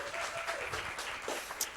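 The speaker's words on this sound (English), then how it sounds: "another round of applause for that wonderful presentation" Audience applauds a presentation at a talk event, with a brief burst of dense clapping from a room of people that stays moderately loud and unbroken.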